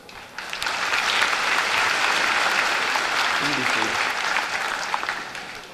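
Sustained applause from a large audience at a 2017 Cumberland County High School graduation ceremony, clapping for the students: a dense, loud, even wash of many hands that rises quickly and holds steady, with a brief voice heard partway through.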